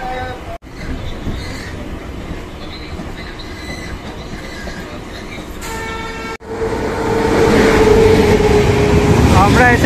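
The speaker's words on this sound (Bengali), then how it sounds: "এখন আমাদের ট্রেন ধীরে ধীরে হাওড়া স্টেশন ছেড়ে বেরিয়ে যাচ্ছে।" Local train pulling out of Howrah station, heard from on board: a steady loud rumble of wheels and carriages with brief squeals, swelling louder toward the end as it gathers speed.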